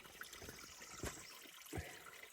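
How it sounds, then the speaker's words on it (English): A small spring fed by recent rains trickles steadily beside an Appalachian Trail path, a soft continuous water sound with two brief louder splashes, close and alone with no voices. "found a little spring that's probably from the rains the last few days ago"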